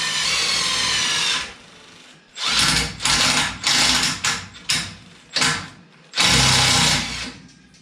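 A cordless power drill drives sheet metal screws into a car body, giving a loud whirring burst followed by a string of short, stuttering pulses of high-pitched motor whine with brief pauses between them.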